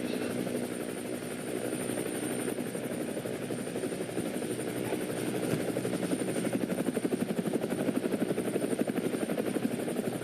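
A helicopter in the GTA video game hovers nearby with a steady, loud rotor thump and whine that grows slightly more pulsing and rhythmic toward the end, heard alone without talking.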